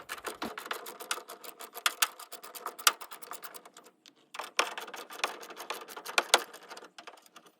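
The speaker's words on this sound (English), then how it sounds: "So get your wrench or your socket and get to work." A hand ratchet turns out 8mm tail light bolts on a 2011-2016 Ford F250 Super Duty, giving rapid close clicking bursts with a brief pause midway.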